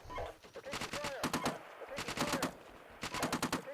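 Bursts of automatic and rifle fire in the tank-combat video game Steel Beasts, rapid repeated cracks in several volleys separated by brief pauses, with radio-style voices and chatter mixed in.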